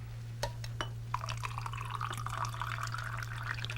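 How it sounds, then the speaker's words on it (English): Steamed milk is poured into espresso for a cafe latte, making a steady liquid pour and gurgle into a glass after a few light clinks, close and fairly quiet over a constant electrical hum. "we're going to pour in about 8 to 10 ounces of steamed milk"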